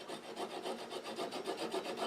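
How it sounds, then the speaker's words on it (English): A flush cut saw rasps through wood during a woodturning project, with steady, rhythmic back-and-forth strokes, close and moderately quiet, with no talking. "I'm going to use my flush cut saw."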